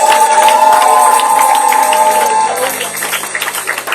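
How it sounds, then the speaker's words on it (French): A church congregation at a Sunday service cheers and applauds the Lord, a loud, sustained roar of voices and clapping that fills the room, with a held tone fading midway as the crowd noise continues. "Est-ce que tu peux acclamer le Seigneur?"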